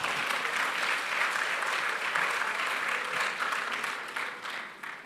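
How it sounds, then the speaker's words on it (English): Audience applause at the 2019 CCMA Indaba gala dinner, an industry conference event, loud, dense and sustained, tapering slightly near the end with no talk over it. "Give yourself a round of applause."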